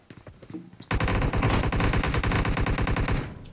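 Rapid automatic gunfire in the video game PUBG Mobile, a loud sustained burst of closely spaced shots lasting a few seconds after some faint sounds at the start.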